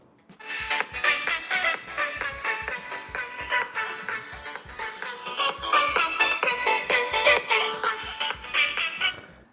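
A Motorola phone's loudspeaker plays music during a sound test, loud and full with a steady thumping bass beat and bright layered tones throughout, no talking over it.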